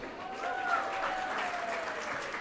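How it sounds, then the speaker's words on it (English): An audience at a design festival talk claps and applauds steadily, a dense wash of hand claps holding at an even level throughout. "Clap for yourselves."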